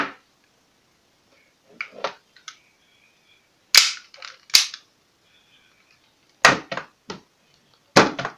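A WE TT airsoft gas pistol fires several sharp, loud shots, one alone and then in quick pairs and bursts, separated by near-silent gaps with faint mechanical clicks between them.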